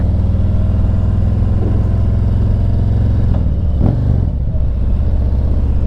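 A Vivid Black 2019 Harley-Davidson Road Glide Special rumbles loud and close while being ridden, with a deep steady engine drone that shifts pitch briefly partway through. No one speaks.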